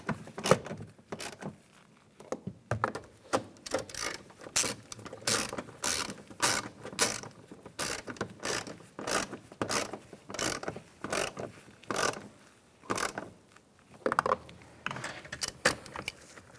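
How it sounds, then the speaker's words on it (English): A hand ratchet tightens bolts while a front door speaker is replaced on a 2007-2013 Chevrolet Silverado, clicking in steady rapid strokes with short pauses and no voices. "And tighten these down."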